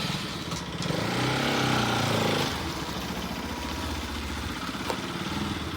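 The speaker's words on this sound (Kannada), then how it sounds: "ಸ್ಟಾರ್ಟ್ ಮಾಡಿ ಗಾಡಿನ ನೋಡೋಣ." A Bajaj Pulsar RS200 motorcycle starts up and runs close by, with a brief louder burst of revving followed by a steady idle.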